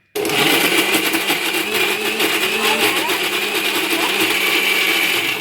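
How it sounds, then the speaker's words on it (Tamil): Electric mixer grinder running steadily at high speed, beating chilled, thickened egg yolks for a homemade cake; a loud, continuous whirring motor drone with a dense buzzing texture that starts abruptly and holds for several seconds. "மிக்சியை வந்து சுலோ இல்லாமல் அதுக்கு ஹையில் வச்சு நீங்கள் இது பண்ணிங்கன்னா நல்லா அரைப்படும்"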